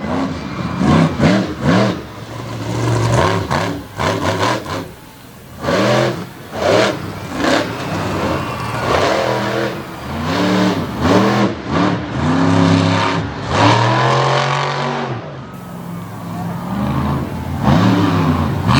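A motorcycle engine revs and surges in repeated bursts during stunt riding at an outdoor race event in Abbottstown, PA, loud and close under an announcer's running commentary.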